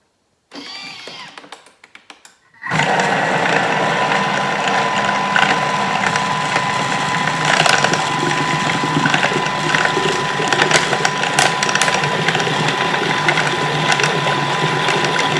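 A Thermomix whirs steadily at speed 5, blending banana chocolate muffin batter in its bowl, a loud continuous mechanical churning with a faint rattle that starts abruptly after a short quieter lead-in.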